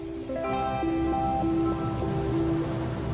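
Rain falls on nanotech-treated glass, a soft, steady hiss of drops running under prominent sustained musical tones, with no speech.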